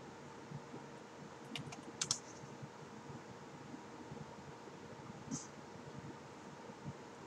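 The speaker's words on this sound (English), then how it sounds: "I think my wife's just typing because she doesn't want to talk today." Faint, sparse clicks of someone typing on a computer keyboard, a few light keystrokes spread across a quiet room under a steady fan-like hum.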